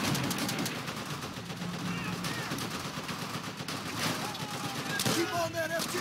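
Machine gun fire rattles in bursts in the Call of Duty: World at War battle, mid-distance rapid shots mixed with other gunfire and battlefield noise, with soldiers shouting over it.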